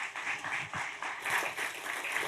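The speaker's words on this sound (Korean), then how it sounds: "앞으로 나오실 때 큰 박수로 맞이해 주시기 바랍니다." An audience at a church-school graduation ceremony applauds steadily, with a dense, even clapping that rises and falls slightly across the whole stretch.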